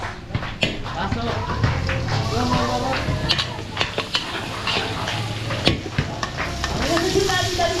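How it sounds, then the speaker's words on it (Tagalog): Garlic and onion sauté for beef caldereta in a busy catering kitchen on a farm, a loud steady sizzle punctuated by frequent sharp utensil scrapes and clanks, with people talking in the background. "papupulayin ko lang yung bawang sibuyas"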